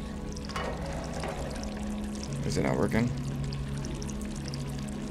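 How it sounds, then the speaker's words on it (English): Water pouring in the video game Stray, a brief gurgling pour near the middle under a steady game ambience, with a person talking over it. "Obviously, I gotta fill some with water."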